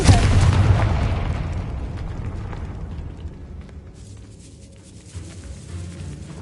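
A Confringo spell explosion in Hogwarts Legacy: a loud, deep boom at the start that gradually decays over several seconds into a rumbling tail, followed by faint low background ambience.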